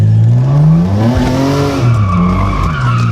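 A Nissan R32 with an RB25DE engine spins out, tires squealing loudly over a revving, wavering engine note that rises and falls throughout, close by with no talk.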